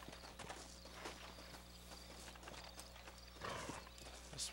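Faint, steady clip-clop of a horse's hooves in the PS3 game Red Dead Redemption plods along over a constant low hum and background noise, with a brief louder scuff near the end.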